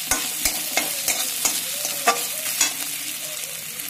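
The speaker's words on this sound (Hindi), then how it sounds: "इसमें हम पहले लहसुन को डाल रहे हैं और अदरक को भी डाल दे रहे हैं।" Garlic and ginger fry over a high flame in hot oil in a kadhai: a dense, loud sizzle with repeated sharp scrapes and clinks of stirring, and no talk.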